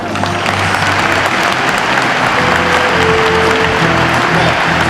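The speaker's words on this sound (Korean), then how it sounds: "다시 한번 뜨거운 박수 축하해 주시기 바라겠습니다" Audience applause for a startup award winner at a televised creative-economy idea competition ceremony, steady dense clapping throughout with a faint tonal music bed underneath.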